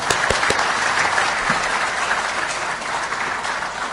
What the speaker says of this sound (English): Please, let's give His Excellency another round of applause.